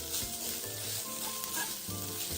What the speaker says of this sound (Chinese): 继续拌炒至水分收干即可